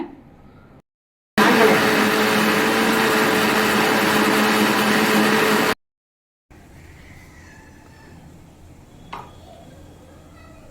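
A loud, steady electric mixer grinder whirs for several seconds grinding coconut chutney with water into a fine paste, then cuts off, leaving quieter background noise with a small clink.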